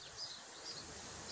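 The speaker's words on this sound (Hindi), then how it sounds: "तेज़ हवा है" Strong outdoor wind blows steadily in open air before sunset, a broad hissing rush with gentle gusts and no voices.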